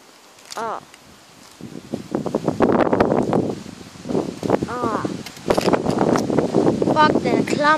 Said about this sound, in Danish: Jeg undskyld, at det blæser lidt. Eller meget faktisk.